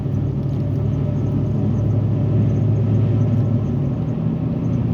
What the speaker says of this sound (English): Don't mind my truck. It's got a shift kit.